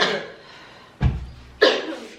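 Two sharp coughs about half a second apart, close and fairly loud, after a stretch of quiet background noise.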